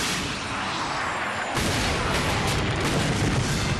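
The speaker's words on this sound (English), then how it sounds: "Pete here is going to try to hit, hold on, that target with the Devastator, a rocket launcher designed for Ratchet & Clank." The Devastator rocket launcher fires in Ratchet & Clank, a loud, dense blast that swells suddenly partway through into a roaring, crackling burst of explosions.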